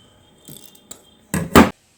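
Wire for a handmade golden wire tree is snipped, with a few light metallic clicks followed by two sharp, close cuts in quick succession.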